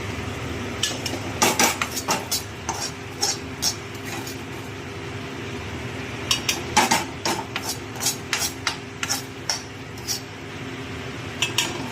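Khichuri of rice and lentils is stirred in a pot with a metal spoon, making repeated scraping and clattering strokes in bursts, fairly close and with no talk.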